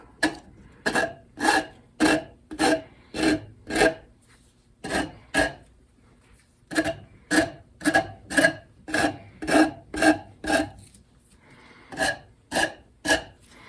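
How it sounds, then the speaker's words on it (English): Regular strokes of a file beveling the top edge of a metal blade for a dandelion weeding tool, repeated rasping passes in steady bursts with short pauses, close and fairly loud, no talking. "I'm going to take and bevel this whole top edge here."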